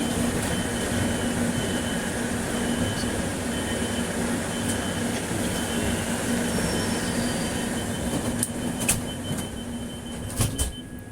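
A Madrid metro train rumbling along steadily, with a constant low roar and faint metallic squeals from the wheels near the end.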